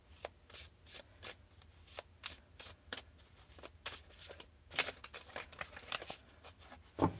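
Long, large tarot cards on good stock are shuffled over and over, a steady run of soft riffling snaps repeating every half second or so, quiet and close.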